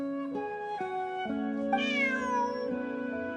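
Bonnie, a game cat, gives a drawn-out, clear meow that rises and then falls, loud and close over a sustained background music tone.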